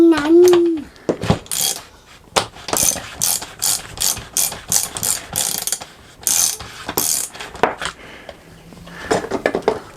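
Socket ratchet clicking in short bursts of rapid pawl ratchets while removing the spark plug from a Stihl MS 250 chainsaw, fairly close, with brief speech at the start and some clatter between strokes.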